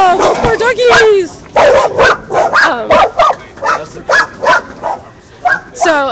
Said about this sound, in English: Oh, poor doggies!